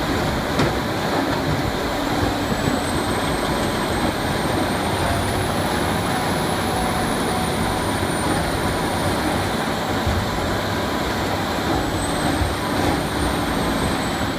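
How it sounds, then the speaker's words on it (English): A Doppstadt 3060 BioPower wood and biomass shredder with a 510 horsepower Mercedes-Benz diesel engine runs at a constant loud roar, a dense unbroken mechanical drone with no voices. "The Dopstat 3060 Biopower packs a 510 horsepower Mercedes-Benz diesel engine"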